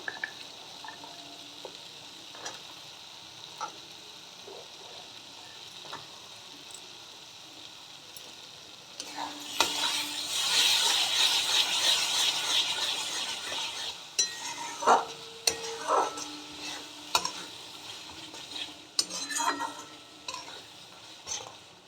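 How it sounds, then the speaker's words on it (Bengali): Spice paste sizzles and fries in oil in a pan while a spoon scrapes and stirs in uneven bursts, louder in the middle, with occasional clinks of metal. "এবার মশলাটা ভালো করে কষিয়ে নেব"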